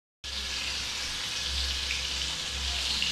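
Bitter gourd koftas frying in hot oil over low-medium heat, a steady, even sizzle that starts suddenly and holds without a break, close and fairly loud, with a low hum underneath.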